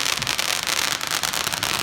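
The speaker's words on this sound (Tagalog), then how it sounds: "nagsisimula na nga magputukan ng mga fireworks na yan sa labas ng bahay" Dense crackling and popping of fireworks bursting continuously outside a house, loud and close, like a rapid string of firecrackers.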